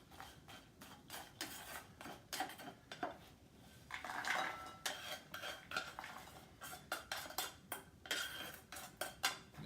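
A spoon clanks and scrapes against a bowl as cashews are stirred with rosemary and lemon, steady rhythmic clinks close up with no talking.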